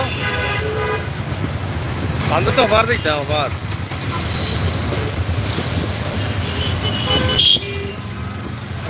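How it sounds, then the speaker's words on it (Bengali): Jammed road traffic in light rain around Uposhohor near the Rose View Hotel, with car horns tooting several times over a steady rumble of engines and wet tyres. A person speaks briefly over the noise. "অনেক গাড়ি ঘোড়া চলাচল করছে, অনেক জ্যাম রয়েছে রাস্তাঘাটে।"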